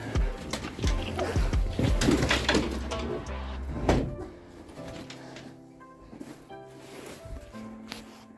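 Chickens in a backyard coop run cluck and coo in scattered, fairly close calls, with a few louder bursts early on before things settle into softer, intermittent sounds.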